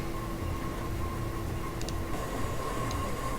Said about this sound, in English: you can hear the noise that the train's making and it is struggling to deal with the bend